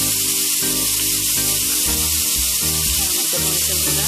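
Mixed Chinese noodles fry in a hot pan with a loud, continuous close-up sizzle, broken by occasional clatters of stirring.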